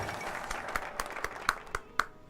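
A sparse, light applause sound effect played over a strategy-game session: scattered individual handclaps land at a quick, fairly regular pace, fading in and out and staying fairly faint throughout.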